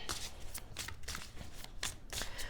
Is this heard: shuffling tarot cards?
yes